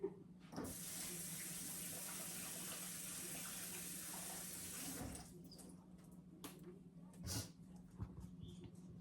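Food being washed under a running kitchen tap, a steady hiss of water pouring into a sink for about five seconds, then stopping, followed by a few brief splashes and clatters.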